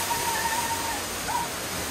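Steady broadband rush of falling water from an artificial waterfall in a park in Sejong, South Korea, heard at moderate distance, with faint thin tones drifting over the constant wash.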